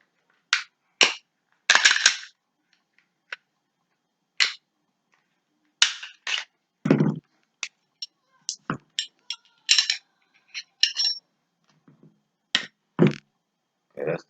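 Crisp metallic clicks and clacks from handling a Glock pistol, scattered across the clip as slide racks and snaps in irregular bursts, close and clear against silence, with one short voiced sound in the middle.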